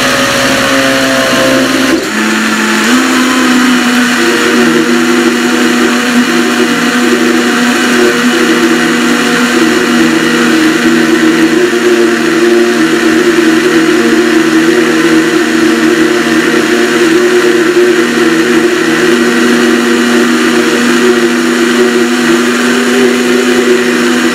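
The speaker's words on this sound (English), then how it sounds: "Now the Vitamix, it'll puree anything, so this is going to be super smooth." A Vitamix high-speed blender purees tomato basil soup, starting up after a quiet moment and then running as a loud, steady whirring roar that holds constant to the end, with no talking.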